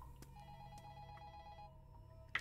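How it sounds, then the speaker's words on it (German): An old telephone in the video game Incantation rings with thin, repeated bell-like tones at a faint level over a low hum, ending in a brief louder click. "Telefon klingelt."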